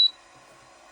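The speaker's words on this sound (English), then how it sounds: "One little beep." A single short, high electronic beep sounds from an xTool M1 Ultra laser machine, crisp and close, then fades into near silence.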